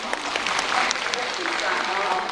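Audience applause at a Yue opera concert of the Wang Wenjuan school, a steady dense clapping from a crowd filling the hall, loud and continuous throughout.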